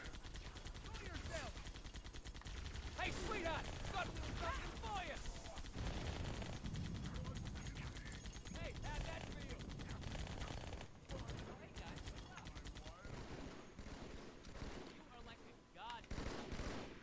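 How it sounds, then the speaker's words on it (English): Turret gunfire in the Halo 2 video game, rapid sustained bursts of machine-gun shots with heavy impacts, loud and continuous under occasional player talk. "we can use the turret"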